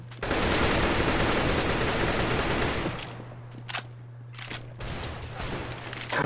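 Loud automatic gunfire in the competitive online shooter CS:GO rattles continuously for about three seconds. After it stop, a few shorter bursts and single shots follow over a steady low hum, with no voices.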